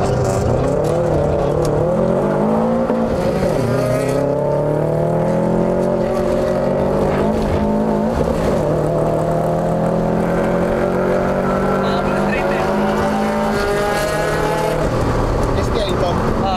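A Subaru STI accelerates along a track, its engine rising and falling in pitch through repeated revving sweeps, loud and near, with people talking over the engine noise.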